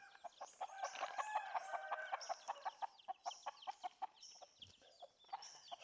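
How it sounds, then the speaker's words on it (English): A hen and her little chicks cluck and peep beside railway tracks on the trek toward Machu Picchu, with steady rhythmic clucks and high chirps continuing faintly throughout. "You got a chicken"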